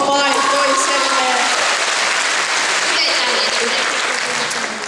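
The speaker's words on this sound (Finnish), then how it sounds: "aplodit vapaaehtoiselle" An audience applauds a volunteer at the Tracon 2014 cosplay convention, with dense, loud clapping that continues steadily from start to finish and slightly thins near the end.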